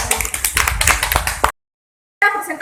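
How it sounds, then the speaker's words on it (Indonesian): A class claps for a group presentation during a teaching session: close, uneven hand claps for about a second and a half, then a sudden dead silence, then more clapping resumes. "beri tepuk tangan dulu"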